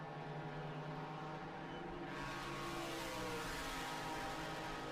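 Race cars at Road America brake and accelerate into a corner, heard as a steady, dense engine roar that swells slightly partway through, with no voices.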